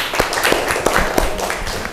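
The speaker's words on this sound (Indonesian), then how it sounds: "tepuk tangan untuk Abel" A classroom of students claps hands for a classmate, a loose scattered burst of claps over about two seconds, close and fairly loud with no talking.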